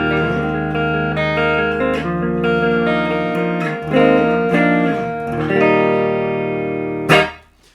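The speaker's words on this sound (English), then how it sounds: "It really comes alive with that bright switch engaged." A high-gain electric guitar plays through a Peavey Ultra Plus amp with the bright switch engaged and no other effects, giving loud sustained distorted chords that shift pitch every second or so and end in a sharp strum, with no talking.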